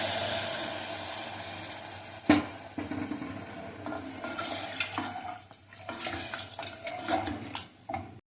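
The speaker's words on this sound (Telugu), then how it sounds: "నీళ్ళు పోస్తున్నానండి" Water is poured from a glass into a pan of frying mutton cooked with tamarind leaves, splashing and sizzling close by in irregular bursts, with stirring sounds as it settles.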